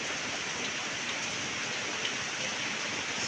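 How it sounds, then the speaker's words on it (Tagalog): Steady, dense rain pouring down outside a home, a broadband hiss that stays loud and constant throughout with no voices. "palakas ang ulan"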